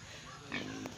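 A live pig about to be roasted as lechon gives a short, nearby grunt and squeal over a brief murmur of background voices.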